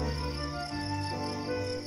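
A longhorn grasshopper, or katydid, stridulates with its forewings in a steady, unbroken buzzing trill on a summer night, continuous and fairly close with no other sounds.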